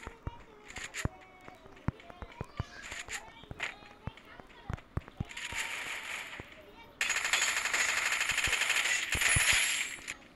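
Gunfire in a shooter video game: rapid bursts of shots and sharp single cracks with footsteps, then sustained loud automatic fire toward the end, over game ambience.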